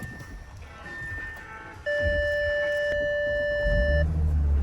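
A car unlocks with a remote, giving a steady electronic tone that holds for about two seconds over outdoor background noise, followed by a low rumble.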